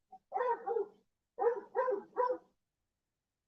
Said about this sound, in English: I am sorry about the barking dogs.